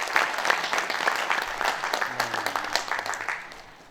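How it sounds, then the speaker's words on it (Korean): Audience applause at a memorial ceremony for General Paik Sun-yup, a dense steady patter of many clapping hands that holds throughout and thins toward the end. "박수로 맞이하겠습니다."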